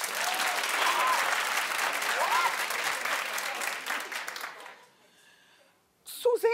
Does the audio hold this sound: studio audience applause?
yes